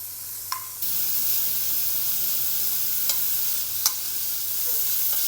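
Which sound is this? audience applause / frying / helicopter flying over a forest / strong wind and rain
frying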